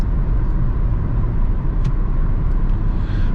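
Hyundai i20 1.4 MPI automatic accelerating, heard from inside the cabin as a loud, steady low engine and road rumble, with a few faint clicks and no speech.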